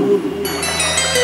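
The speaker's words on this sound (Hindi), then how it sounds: "और अनेक प्रकार के पक्षियों को राम उस रथ के झरोके से बताते थे सीता के लिए।" Birds call in a forest as a story sound effect: a low cooing hoot opens, followed by a layered chorus of high, close calls.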